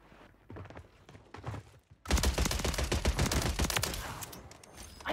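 Gunfire in the video game Warzone 3 breaks out after quieter footsteps and rustling, with a dense run of rapid, loud shots and impacts that continue close and intense for several seconds.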